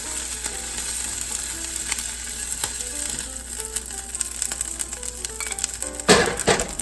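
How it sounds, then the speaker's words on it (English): Scallops in a hot pan with lemon caper sauce crackle in a steady, fairly quiet sizzle. Light clinks sound now and then, and a louder hiss of deglazing bursts up near the end. "we're going to deglaze the pan"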